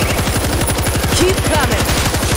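Rapid, steady machine gun fire in World War Z Aftermath, a loud continuous stream of close shots with even rhythm and no pauses.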